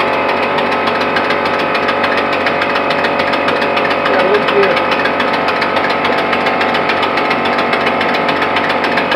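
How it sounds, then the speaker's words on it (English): Gasoline engine converted to run on compressed air at about 30 PSI, giving a loud, steady mechanical chatter with rapid rhythmic knocking throughout, with a brief spoken remark over it. "Gasoline engine running off compressed air."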